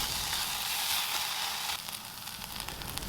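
Onions sweating in oil in a hot pot give a steady, bright sizzle that fills the whole short stretch, softening slightly midway, with no talking.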